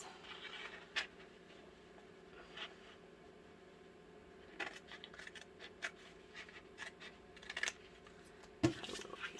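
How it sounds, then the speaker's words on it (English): Scissors snipping paper while trimming a handmade mini book charm, a scattered series of small close cuts and scratchy paper sounds over a low steady hum, with no talk. "I'm just going to use my scissors."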